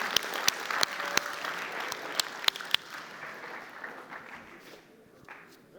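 An audience applauds at the close of a business presentation, with sharp individual claps standing out over a dense wash of clapping that gradually thins and fades over several seconds.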